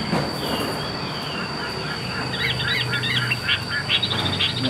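A hand-raised songbird sold by a Vietnamese bird dealer sings in a run of short chirping phrases over steady background noise with a faint continuous hiss.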